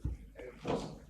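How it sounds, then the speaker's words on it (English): A door in a lecture room swings shut with a single low, close thud at the start, followed by faint room murmur and a voice in the background. "Can someone close the door because there's so much of noise"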